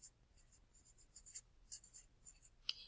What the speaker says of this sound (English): So I'm going to write that down here.